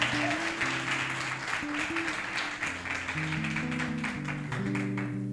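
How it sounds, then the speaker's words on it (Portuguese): A church congregation claps hard and fast for several seconds, a thick steady wash of palms under held keyboard chords that shift in pitch as the music carries on. "Bem forte as palmas."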